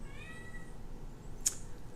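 Cats meow indoors, behind the room sound. One drawn-out meow comes early, then a short sharp sound follows, both fairly faint and with no talking over them.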